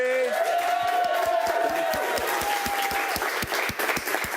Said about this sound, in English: let's have a huge round of applause for these 3.